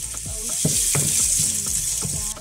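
Onions sizzle loudly in a hot pot, with a spoon or spatula scraping and stirring in repeated strokes over the steady frying hiss, up close and without talk.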